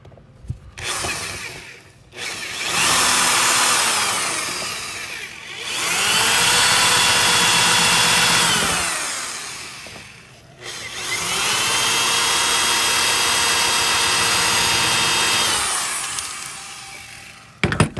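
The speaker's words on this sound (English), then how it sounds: "All you want to drill is the lock." Power drill boring out the lock cylinder of a vintage Bargmann L-66 camper door lock on a Serro Scotty trailer, three long sustained loud drilling runs separated by short pauses, with whining pitch shifts as the bit bites.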